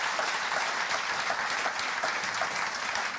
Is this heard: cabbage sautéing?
no